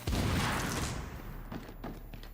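Explosion in The Division video game, a loud, dense blast that roars for about a second and then tails off into scattered cracks and rumbling debris.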